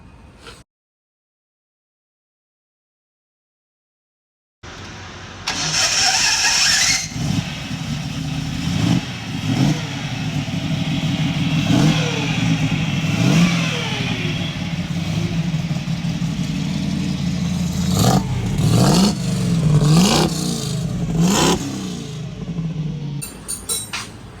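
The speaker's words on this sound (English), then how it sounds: "right now it sounds like a NASCAR, and it's a little loud" A 1966 Ford Bronco Utility Sport with a loud exhaust fires up after a short silence, then idles roughly and is revved repeatedly in sharp bursts, close and loud.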